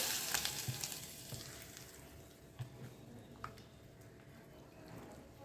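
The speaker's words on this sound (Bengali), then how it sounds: "এটাকে এই তেল দিয়ে এবার ভালোভাবে এটাকে নেড়ে চেড়ে দিচ্ছি" Cut raw mango pickle being stirred through hot oil, a faint, low sizzle with soft scraping and a few light taps from the spoon, quiet and close, without any talking.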